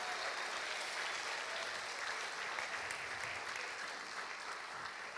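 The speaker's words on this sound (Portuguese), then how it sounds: "Uma salva de palmas para essa célula abençoada." Steady, sustained applause from a church cell group gathering, a continuous wash of many hands clapping at moderate distance with little else audible.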